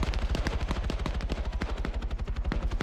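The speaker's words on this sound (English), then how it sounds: "You just heard that chopper take a hit" Rapid automatic gunfire rattles in a fast, continuous burst during a combat game as a helicopter takes hits, loud and close with a low rotor-like rumble beneath.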